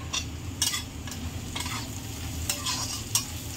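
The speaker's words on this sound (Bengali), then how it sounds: "এটা দেখুন, পেঁয়াজটা আমার লাল লাল করে ভাজা হয়ে গেছে।" Onions frying to a reddish brown in a pan while being stirred, a soft steady sizzle broken by several sharp scrapes and clinks of the spatula against the metal at irregular intervals.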